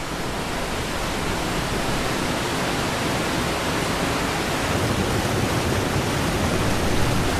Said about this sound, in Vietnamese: Khối lượng nước khổng lồ của hồ Constant đổ xuống cùng với một âm thanh chói tai